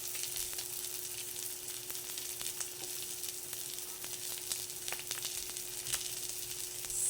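Saluyot leaves sizzle steadily in a hot frying pan, a continuous close crackle of frying with faint scattered pops and no voices.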